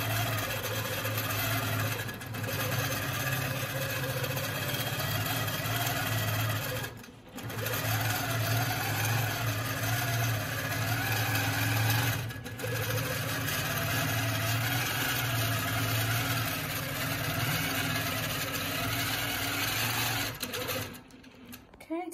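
A longarm quilting machine stitches a jelly roll quilt with a steady, fast mechanical whir and hum that runs nearly continuously, broken by a few brief pauses, close and moderately loud.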